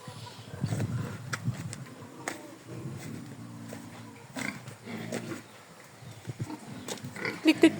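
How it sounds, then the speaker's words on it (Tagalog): Pet pigs on a hot farm grunt and snort in low, uneven bursts at close range, with small clicks scattered through and a few louder squeals toward the end. "Tingnan naman natin yung ating mga alagang baboy."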